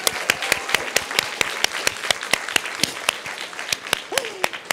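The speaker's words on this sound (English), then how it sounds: "great round of applause" Scattered clapping at a community health symposium, with a few distinct loud individual claps standing out over a thinner applause and a brief vocal whoop near the end.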